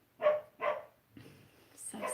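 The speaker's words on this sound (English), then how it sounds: "I'm like right by the door and the dogs are playing" Dogs play near a door, with two sharp barks close together, then quieter scuffling and a softer yip or whine. The sounds are fairly faint and come alone, without talk over them.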